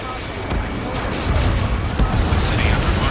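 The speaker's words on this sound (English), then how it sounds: "Gunfire and the roar of jets echoing through the streets." A steady broadband roar of jet engines fills a city under martial law in Ace Combat 7, with scattered sharp gunfire cracks and thuds breaking through the continuous din.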